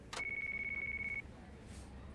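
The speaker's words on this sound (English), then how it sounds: "That your phone?" A mobile phone rings in the Yakuza 5 video game: one quiet, steady electronic beeping tone that lasts about a second and then stops.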